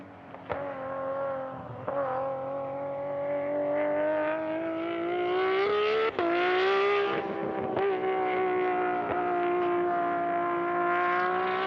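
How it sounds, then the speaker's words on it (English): A race car with a Nissan RB engine screams around the track at a time attack event, a loud, sustained high-revving wail that rises and falls with gear changes and shifts in throttle. "let's hear the screaming RB one more time for Nick Geyer."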